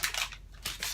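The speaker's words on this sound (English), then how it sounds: "So I'm just going to unwrap these and throw them in." Sticks of butter are unwrapped by hand, heard as a few close crinkly paper rustles in two bursts with a short pause between.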